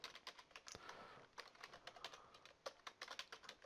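Rapid keystrokes on a computer keyboard while entering text into a broadcast graphics program, a quiet, irregular run of close clicks with no talking.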